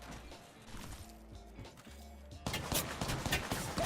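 Video game gunfire arrives as muffled rapid bursts and thuds, then turns louder with sharper cracks and clattering impacts in the last second and a half. A faint voice sits low underneath.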